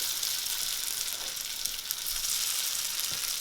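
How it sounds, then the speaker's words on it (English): Tofu koftas sizzle steadily in a hot frying pan, a continuous close crackling hiss of oil with no talking. "Oh yeah, perfect sizzle."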